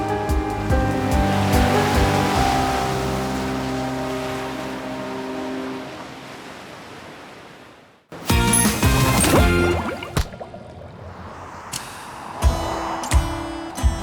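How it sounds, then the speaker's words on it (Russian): Broad roaring wash of Pacific surf crashing steadily at Cabo San Lucas, Mexico, then a sudden break into clattering, rumbling water and bursts of wave noise; no voices. "Океан, ты прекрасен."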